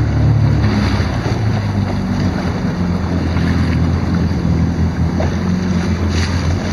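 Jet ski riding on the ocean off Montana de Oro, a loud steady engine drone mixed with rushing water and heavy wind buffeting the microphone, continuous throughout.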